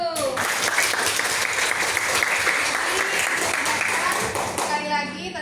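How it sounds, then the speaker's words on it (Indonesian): Classroom students applauding together in a lesson, a burst of brisk close clapping with children's voices mixed in, ending abruptly. "Tepuk tangan dulu."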